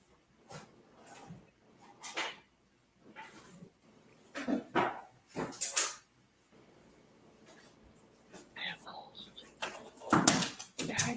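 Pebbles the dog, a pet at home, gives scattered barks and whimpers in short bursts between quiet gaps, close by, with people talking around the dog.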